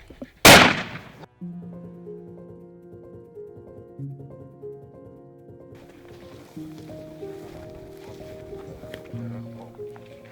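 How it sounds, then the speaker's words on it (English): A single loud rifle shot fired at a Cape buffalo on an African hunt, a sharp close crack followed by a fading rumble, with low voices and murmuring afterward. "Shoot him on the tail, on the base of the tail."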